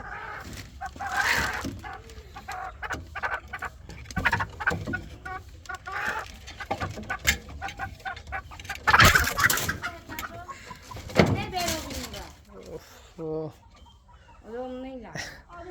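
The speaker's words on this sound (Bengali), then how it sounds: "মুরগি, দেশি মুরগি" Native desi chickens cluck and call in bursts close by, mixed with people talking throughout and a few sharper thumps and clatters.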